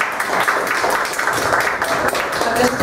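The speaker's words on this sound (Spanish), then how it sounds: "Aplausos también para ella, lindos ejemplos." Applause during an online university teaching diploma class for a student's presentation, a short burst of many scattered claps over a live connection, with voices talking underneath.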